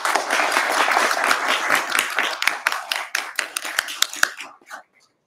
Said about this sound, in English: join me in giving them a big round of applause for all that they have done in assisting you to reach this milestone